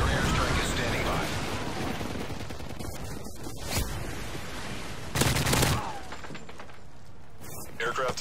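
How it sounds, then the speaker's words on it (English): Gunfire and explosions in a Call of Duty: Modern Warfare 3 multiplayer match, with rapid bursts, a loud blast near the middle and sharp cracks, all under a radio voice. "Friendly Predator missile inbound."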